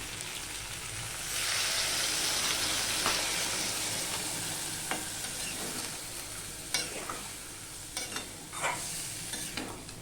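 Loud hissing sizzle rises as water hits a hot pan of fried vegetables, then settles while a spoon scrapes and clinks against the vessel several times.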